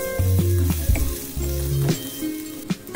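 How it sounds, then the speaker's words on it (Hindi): Onions sautéing gently in oil over a low flame, a soft continuous sizzle with faint stirring scrapes and clicks, heard close and alone. "सिर्फ इसको सौते करना है थोड़ा सा।"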